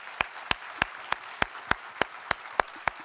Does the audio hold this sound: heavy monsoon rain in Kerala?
no